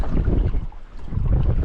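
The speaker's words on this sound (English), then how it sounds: "This wind's just getting worse." Strong wind buffets the microphone on a small fishing boat out on Moreton Bay, a steady roaring rumble with gusty surges that dip briefly then build again, no voices.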